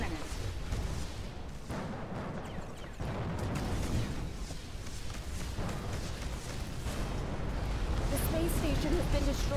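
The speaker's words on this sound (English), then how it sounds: "Explosion imminent." A heavy rumbling blast and battle din from the space game Between the Stars, a sustained loud roar with thudding bursts throughout, under spoken voices.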